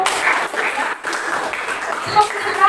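Applause from a class for a fellow pupil in an Indonesian lesson on short-story elements, a brief burst of many hands clapping at moderate level, with voices mixed in.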